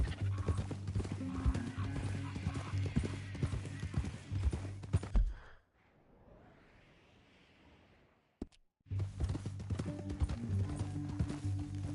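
Horse hooves clip-clopping with a neigh in Red Dead Redemption 2, steady hoofbeats over game music and ambience, then a few seconds of quiet before the busy sound returns.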